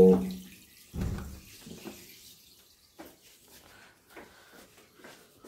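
Water drains from an IFB washing machine washing a blanket, a steady gushing, splashing flow with a loud surge near the start and softer gurgling trickles afterward, close by with no talk.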